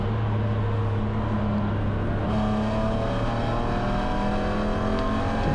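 A BMW E9X spec race car in a Gridlife GLTC race at Gingerman Raceway drones loudly and continuously, its engine pitch climbing as it accelerates along the track, heard from onboard with no talking.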